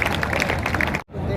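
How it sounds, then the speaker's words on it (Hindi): A crowd at a Nayak community gathering claps loudly, a thick burst of applause mixed with babble that cuts off abruptly near the end before faint crowd noise resumes. "एक बार जीतू जी भील के लिए जोरदार तालियां बजा दी"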